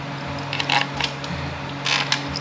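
A ratchet tightens valve body bolts on a ZF6HP21 automatic transmission being rebuilt, a few quick close bursts of clicking over a low steady background hum.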